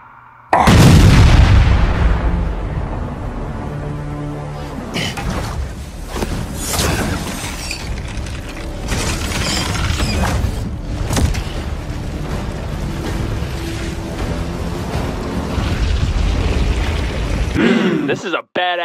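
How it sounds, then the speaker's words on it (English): Loud bomb explosion in a Marvel superhero video game, a heavy boom with shattering debris at the start, then continued blasts, crackling and game effects over about eighteen seconds, with voices talking throughout. "Watch out! Big kaboom! Huh? There's a bomb under you!"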